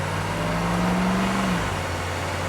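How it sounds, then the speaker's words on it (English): An AM General Humvee on 40-inch tires accelerates with a steady, loud mid-range engine drone under a rising tone that holds, then drops as the shift comes. "and we're going to give it some gas."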